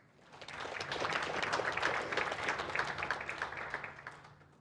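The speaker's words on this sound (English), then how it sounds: "I want you to give yourself a big round of applause" A seated audience at the closing ceremony of an experts' meeting breaks into applause, a soft, distant wash of many hands clapping that swells and then fades over a few seconds.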